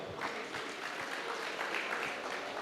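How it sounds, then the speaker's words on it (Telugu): Applause from a rally audience in Dhone, a steady wash of many hands clapping at moderate distance that runs without a break. "శంకర్ గారికి ఒకసారి గడి క్లాప్స్ కొడదాం"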